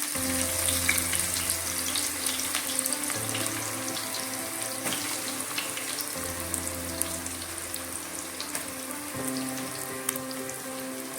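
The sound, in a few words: thinly sliced onions frying in hot oil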